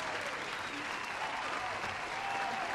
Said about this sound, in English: here comes that applause sound effect